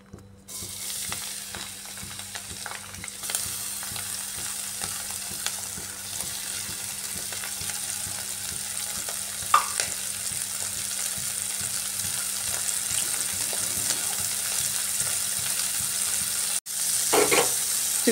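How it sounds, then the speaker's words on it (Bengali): Turmeric- and salt-rubbed prawns fry in mustard oil in a wok, a steady close sizzle with occasional stirring scrapes and clatters running throughout, no voices. "চিংড়ি মাছগুলোকে হালকা ফ্রাই করে নিচ্ছি"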